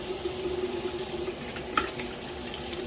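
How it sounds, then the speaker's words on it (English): Tap water running steadily into a sink while rinsing after a shave, a close, even splashing stream with a faint clink partway through. "Let me go ahead and rinse."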